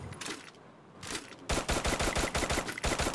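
Gunfire in the Free Fire battle royale video game: a few scattered shots at first, then from halfway through a rapid, loud string of evenly spaced automatic bursts.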